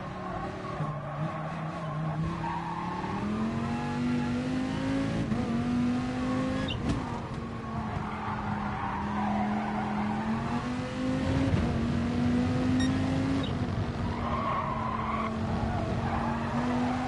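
A race car in Gran Turismo Sport laps Laguna Seca, its engine droning and rising through short-shifted gears while tires squeal and skid through corners, steady and loud throughout.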